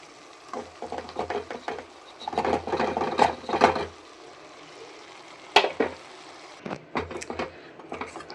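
Cooked rice being stirred into okra masala in a pan, heard as intermittent scraping and clattering strokes of a spoon in bursts with short pauses, moderately loud and close, no talking.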